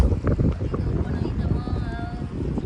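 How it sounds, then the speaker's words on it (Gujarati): Strong wind blowing outdoors at a waterside fishing spot, a steady, loud rumbling roar buffeting the microphone throughout, with faint voices in the background. "મસ્ત મજાનો અહીંયા પવન આવે છે જોરદાર"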